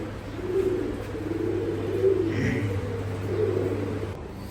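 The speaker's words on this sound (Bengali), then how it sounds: "এই কবুতরগুলো আজকে দেখাবো বলছিলাম, এই ফ্লেয়ার কবুতর" Indian laldom flyer pigeons coo in repeated low, rolling phrases close by, with a steady hum underneath and a faint higher chirp midway.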